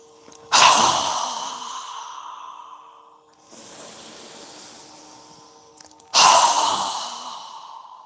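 Deep yoga breaths during a class: two loud, forceful exhales with a quieter, softer inhale between them, close and clear with no talking.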